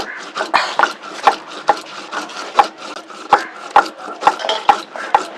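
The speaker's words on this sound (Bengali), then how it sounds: "আমি এখনো জিরাটা বেটে নিচ্ছি" Cumin seeds ground by hand on a grinding stone, a steady rhythm of rough back-and-forth scraping strokes, close and loud, about two strokes per second.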